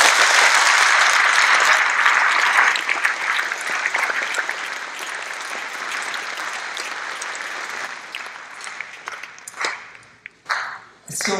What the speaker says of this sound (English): Please, a round of applause for your teachers.